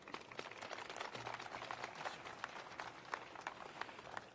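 Applause and clapping from an audience at a Capitol Christmas tree event, a broad steady patter of many hands filling the room for several seconds at moderate loudness.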